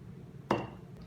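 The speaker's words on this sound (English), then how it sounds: "let's add 8 tablespoons of salt to the glass of salt water" A spoon tips a tablespoon of salt into a glass of water, giving a single sharp clink against the glass partway through, with quiet room tone before and after.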